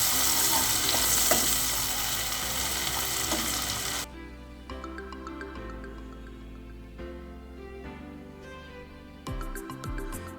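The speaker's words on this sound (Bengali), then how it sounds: "পেঁয়াজগুলোকে ব্রাউন কালার করে ভেজে নেব।" Chopped onions fry in the same oil used for hilsa fish, for an eggplant curry, with loud, dense sizzling that drops suddenly to a softer crackle as they are stirred in the pan.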